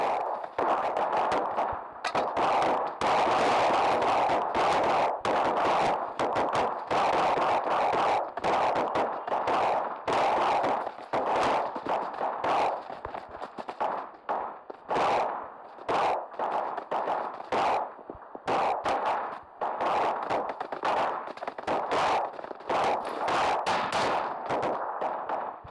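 Repeated gunfire in the battle royale game PUBG, with dense bursts of sharp shots cracking close and loud throughout, almost without pause.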